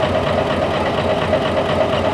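A vehicle engine keeps idling after the key has been turned off and pulled out, an electrical or ignition fault. It gives a steady, continuous mid-pitched hum with a faint knocking pulse, close and even throughout, with no voices.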